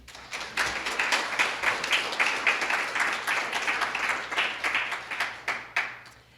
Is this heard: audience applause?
yes